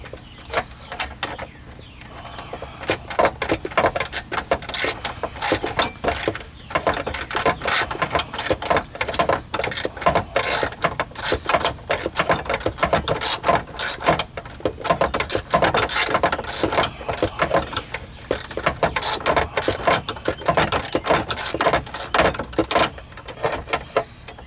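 A ratchet works loose the glove box bolts inside a Jeep Cherokee XJ, giving dense, rapid, close-up clicking that runs almost continuously with brief pauses between bursts.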